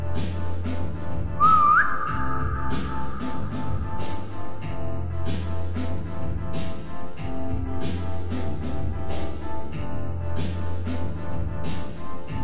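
A player whistles briefly in the Roblox survival game 3008, a short rising tone that holds for a moment, heard once early over a loud rhythmic pulsing music track.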